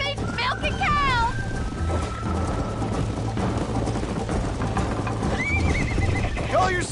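In Red Dead Redemption, a horse gives loud whinnies at the start and near the end over a steady clip-clop of galloping hooves, with characters talking over it.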